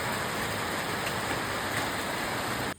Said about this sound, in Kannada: ನಾವು ಸಫಾರಿ ಮುಗಿಸ್ಕೊಂಡು ಬರೋಷ್ಟೊತ್ತಿಗೆ ಫುಲ್ ಮಳೆ ಬರ್ತಾ ಇದೆ